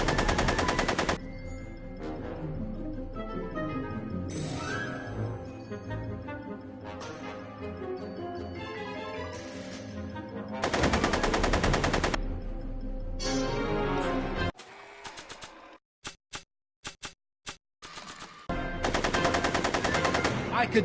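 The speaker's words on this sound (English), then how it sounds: "Are you shooting at me?" Video game gunfire in Back to the Future Telltale: loud bursts of rapid machine-gun-style shots alternate with music and game sounds, ending in a few sparse isolated bangs before another long burst.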